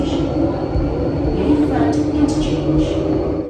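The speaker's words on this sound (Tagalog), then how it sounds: "So we're now here sa Bayfront MRT Station." A metro train rumbles through Bayfront MRT Station in Singapore, a steady loud low roar with a faint whining tone. Voices talk over it throughout.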